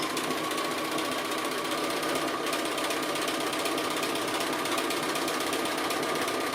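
A sewing machine stitching appliqué hums and chatters steadily for several seconds, a dense, even run of rapid needle strokes close by with no pauses or voices.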